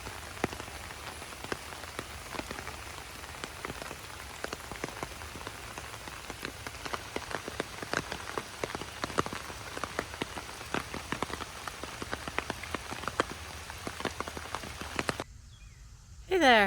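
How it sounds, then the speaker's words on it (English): Summer rain falls in a garden, a dense patter of close drops striking surfaces in an irregular tapping rhythm that carries on steadily, ending with a brief louder disturbance. "the seedlings can get all this rain"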